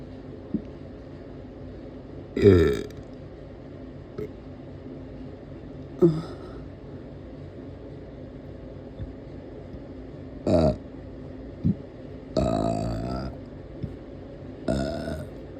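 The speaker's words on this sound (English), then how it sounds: "So much burping." Several loud burps erupt one after another at irregular intervals, some short and sharp, others long and drawn out, with a faint background hum between them.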